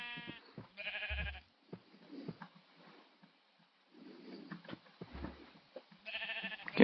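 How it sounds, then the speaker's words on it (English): Sheep bleating in a video game near a wheat field, several short separate bleats with quiet gaps between them, moderately close, with no talk. "I kind of forgot that wheat also attracts sheep, so I guess that's why they're here."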